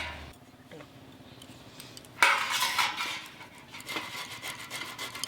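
Ripe mangoes are rubbed across a grater to make mango pulp, giving close, rhythmic rasping strokes that start abruptly after a quiet stretch with faint clinks.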